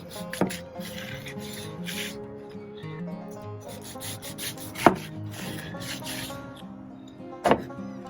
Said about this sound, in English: I'm going to take and slice off just a piece right down through the middle